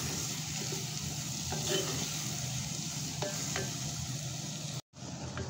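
Chopped onions sizzle steadily in hot oil in a pan, with occasional stirring scrapes over a continuous frying hiss that cuts out abruptly near the end.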